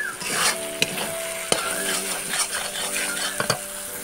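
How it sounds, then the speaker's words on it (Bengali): Spice masala with coriander and cumin powder frying in a pan for a chicken dish, a steady sizzle with several sharp clinks and scrapes of a spoon stirring against the pan, close and with no voices. "আর মশলাটাকে আমি ভালো করে কষে নিয়েছি"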